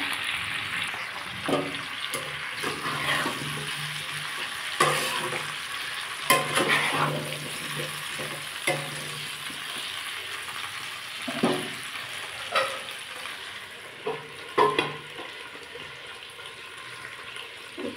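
Jujube fruit (kul) for pickle fries in a pan with a continuous close sizzle, broken by repeated scraping and stirring knocks and an occasional lid clatter.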